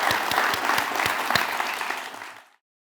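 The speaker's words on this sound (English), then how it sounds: "Give a round of applause, Anil." An audience applauds at the close of a talk, dense steady clapping that holds for about two seconds and then fades out quickly into silence.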